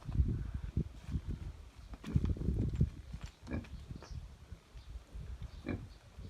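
Small pigs grunting and snuffling close by, a string of low, irregular grunts with a few brief squeals.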